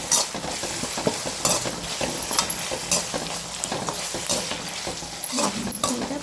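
Jaggery frying in a pan at home, a continuous crackling sizzle broken by repeated scraping and stirring strokes of a spoon against metal, close up with no talk.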